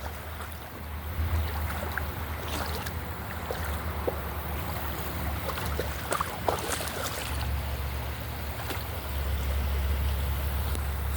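Feet dipping and moving in outdoor water, producing soft splashes and scattered sloshing over a continuous low rush of flowing water and wind for several seconds.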